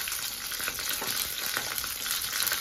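Okra frying in hot oil for an Odia kanji dish: a continuous bright crackle and sizzle with occasional stirring, moderately close and alone, no voices.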